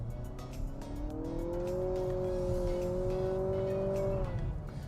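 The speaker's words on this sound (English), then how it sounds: "So let's see how this VC Turbo accelerates." A 2023 Nissan Altima SR VC Turbo in sport mode accelerates hard, its engine note climbing steadily and then holding at high revs while the car pulls.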